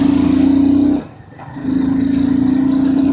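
Royal Enfield Guerrilla 450 motorcycle engine running at a steady drone, dropping off briefly as the throttle is eased, then accelerating again to a strong sustained hum, close and loud without talk.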